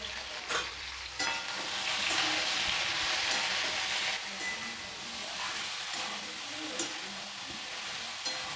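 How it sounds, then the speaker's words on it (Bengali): Ridge gourd seasoned with salt and turmeric fries in a pan with a steady, loud sizzle. Sharp scrapes and clinks from stirring break through every second or so. "ঝিঙে ভাজা হয়ে গেছে"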